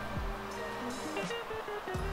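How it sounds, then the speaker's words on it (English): A river flows through a forest in the Alps, its steady rushing hiss filling the air continuously, with faint tonal sounds drifting over the water noise. "There is a river there."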